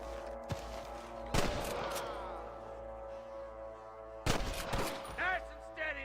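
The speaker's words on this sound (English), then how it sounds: "I can hear more gunshots" Gunfire in a Red Dead Redemption shootout, with sharp bursts of shots cracking out in two distinct volleys separated by a quieter stretch, loud and close, with brief ringing tails and some game chatter around them.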